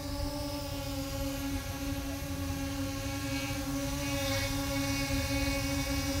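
A DJI Mini 2 drone fitted with Master Airscrew Stealth propellers hovers nearby, giving off a steady high-pitched buzzing whine with stable tones that holds throughout, with no one speaking.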